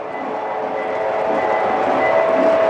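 A Lionel model train runs past on a layout. Its motor gives a steady, loud electric whir and rumble with a faint whine that builds slightly over the whole stretch.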